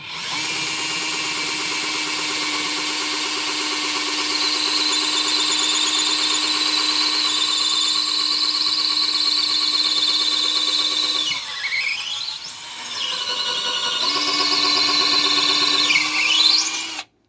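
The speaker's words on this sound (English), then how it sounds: "Obviously the drill bit isn't going to go through that entire hole, but it drilled into a piece of oak." A cordless 12V drill whines steadily at high speed, then its pitch dips and rises as it bogs down and recovers while boring into oak.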